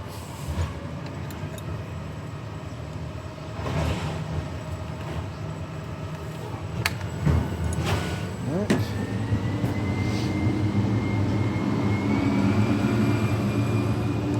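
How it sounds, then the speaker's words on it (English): A loud garbage truck passes outside during a car repair on a 2010 Honda Accord 2.4 liter, its engine rumble and hiss building steadily and staying close, with brief clanks and a rising whine partway through. "That is a loud trash truck."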